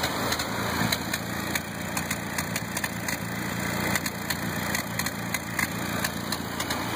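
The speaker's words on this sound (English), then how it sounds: "there's a bit of a back rumble through the" An engine that was just leaned out idles with a steady low rumble and irregular crackling exhaust pops, continuous and moderately loud.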